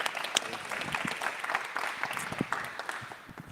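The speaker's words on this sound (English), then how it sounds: "Clap it for Colby, everybody." Group applause breaks out for Colby at a meeting, a steady wash of clapping hands from a modest crowd that holds throughout and thins slightly toward the end.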